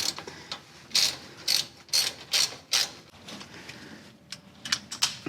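A fine-tooth ratchet clicks in quick bursts while tightening a sway bar link on a 100 Series Land Cruiser, about a dozen crisp close ratcheting strokes in an irregular rhythm, each with a rapid metallic chatter.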